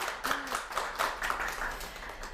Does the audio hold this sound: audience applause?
yes